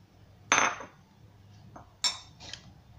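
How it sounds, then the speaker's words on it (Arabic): A spoon knocks and scrapes against a bowl while mixing a homemade bread spread: a couple of sharp clinks with softer scraping between, close by and without talk. "حركو شوية، نخلطو شوية"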